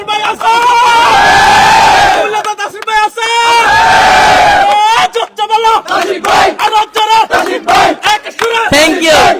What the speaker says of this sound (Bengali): এই যে হাততালি হয়ে যাক